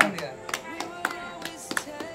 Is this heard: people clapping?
yes